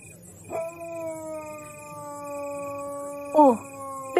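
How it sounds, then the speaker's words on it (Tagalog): A dog gives a long, sustained howl close by, holding one steady pitch for nearly three seconds, then breaks into short rising yelps before starting a fresh howl at the end. "Lokong aso to eh. Sa tabi ko pa talaga ako malulong."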